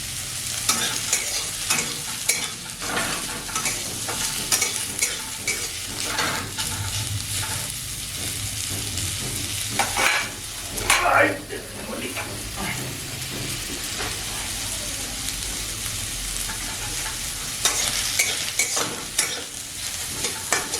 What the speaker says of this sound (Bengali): কড়াইয়ের মধ্যে পেঁয়াজটা ছেড়ে দিলে হালকা একটুকু ব্রাউন কালারে ভাজা ভাজা হয়ে যাবে